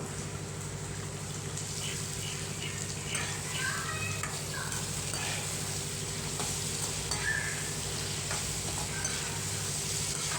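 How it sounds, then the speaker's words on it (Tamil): Eggplant pieces sauté in oil in a pan, giving a steady moderate sizzle with occasional stirring scrapes over a low, constant background hum. "இப்போ வந்து கத்திரிக்காய் நல்லா வதக்கி விட்டுருங்க. நல்லா அந்த எண்ணெயிலே நல்லா வதங்கட்டும்."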